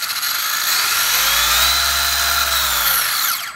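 A hobby-grade RC car's electric motor whines up and down under proportional throttle, a loud continuous rising and falling tone that swells in the middle and eases off over a few seconds.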